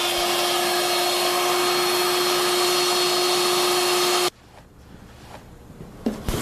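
Table router cutting wood in a shallow pass of about fifteen thousandths with the fence set, a loud steady high-pitched motor whine that cuts off abruptly partway through, leaving quiet room noise and a few small knocks.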